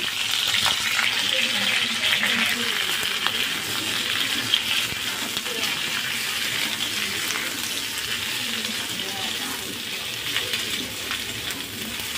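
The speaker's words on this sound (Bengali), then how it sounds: "তেলের মধ্যে একটু অল্প করে জিরে দিয়ে ফুলকপিগুলো নেড়ে নেব।" Cauliflower with cumin stir-fries in oil, a dense steady sizzle with occasional stirring scrapes, close and fairly loud throughout.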